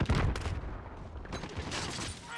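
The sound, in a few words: gunfire from the video game Modern Warfare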